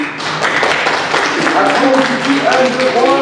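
Audience applause at a community storytelling event in Avignon, a dense burst of clapping that runs steadily throughout, with voices calling out over it toward the end.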